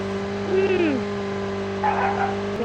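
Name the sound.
car driving in Call of Duty Mobile video game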